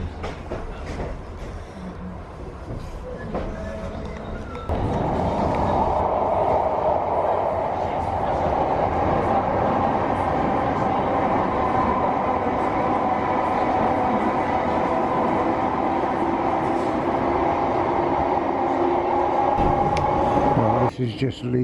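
A train rumbles and hums steadily, its engine noise swelling as it pulls away from Exhibition Centre station and picks up speed, with a voice talking early on.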